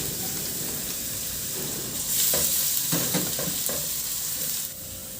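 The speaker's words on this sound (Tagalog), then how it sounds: "at igisa ko na yung bawang." Garlic sautéing in a little cooking oil in a pan, a steady close sizzle with a brief burst of louder hissing and stirring scrapes in the middle, no talking.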